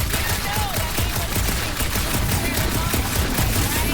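Dense, continuous gunfire from the PC video game Marvel's Guardians of the Galaxy, a sustained fusillade of rapid shots filling the scene at steady loudness throughout.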